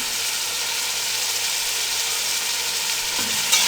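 Boiled chickpeas mixed with yogurt sauté over a medium flame for chana pulao, a dense, even hiss of frying held steadily close up with a small knock near the end.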